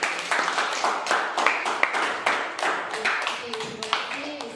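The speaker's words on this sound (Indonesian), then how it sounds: "Kita beri tepuk tangan dulu." An audience at a school teachers' program in Manggarai Barat claps together, a dense run of close hand claps that stays steady, then thins toward the end while a voice speaks faintly underneath.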